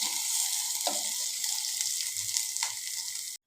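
Sliced onion and mustard seeds frying in hot oil give a steady, close, hissing sizzle with a few soft clicks of stirring throughout. The sound stops abruptly near the end.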